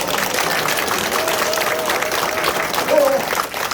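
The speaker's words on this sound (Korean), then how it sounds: "박수 한번 쳐주세요." Audience applause at the opening of a county-head election campaign office in Yecheon, Korea, a dense continuous wash of clapping from a crowd indoors, with some voices mixed underneath.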